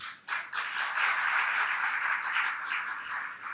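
An audience at a Jain religious discourse applauds: a dense, steady patter of many hands clapping together, starting abruptly and holding at an even level throughout.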